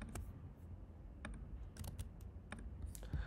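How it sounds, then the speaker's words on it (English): Scattered keystrokes on a computer keyboard, faint and close, a few separate clicks and small clusters spread over a few seconds above a low background hum, with no talking. "Let's see what happens when I type now."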